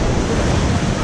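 Rushing water of the Debed river during rafting, a dense, loud, steady roar of churning current heard close up for a brief moment, with no voices.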